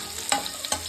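Garlic and prawns sauté in a pan for Tamil-style prawn thokku, a steady close sizzle broken by two brief louder scrapes of stirring.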